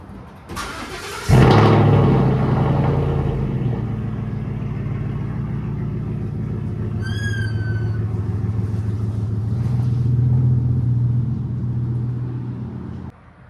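A pickup truck cranks and fires up inside a garage, then settles into a loud, steady idle and rumbles slowly out, with a brief high chirp partway through.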